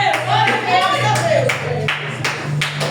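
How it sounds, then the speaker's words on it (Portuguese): Church congregation claps in unison during a Portuguese-language Pentecostal service, a series of sharp, rhythmic handclaps over a low hum, with a voice speaking and singing on top. "glorifiquem o Senhor com as palmas"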